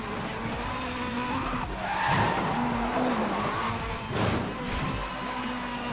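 A car in the Need for Speed Most Wanted video game skids along, its tires squealing in drawn-out, wavering tones over a steady engine and road roar.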